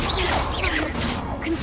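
Confringo fire spell being cast in Hogwarts Legacy, a quick swooshing whip-like burst followed by a crackling impact, loud and close, filling the short moment with dense game effects.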